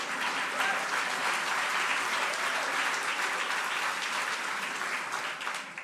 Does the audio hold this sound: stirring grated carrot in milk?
no